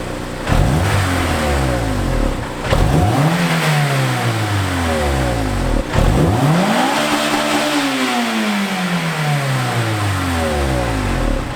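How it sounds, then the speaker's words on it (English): Stock exhaust on a Honda S2000 revved three times in a row, each blip rising sharply and falling away over several seconds, loud and close, with no talking. "here is what the stock exhaust sounds like"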